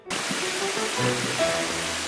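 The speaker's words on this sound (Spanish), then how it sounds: "nos ha sorprendido una tormenta por la mañana y ahora otra vez porque sí" Storm rain falling outdoors in Sicily, a steady, dense hiss of rainfall that holds at an even level with no voices.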